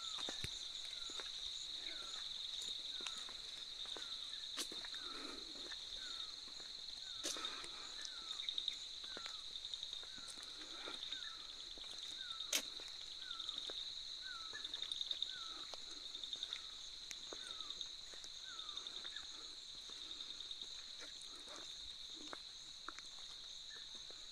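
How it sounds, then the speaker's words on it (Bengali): Crickets chirp continuously in quiet hills at a tea garden at night, a steady high trill with faint scattered clicks and taps around it. "সঙ্গে পাহাড়ি ঝিঝি পোকার একটা ডাক।"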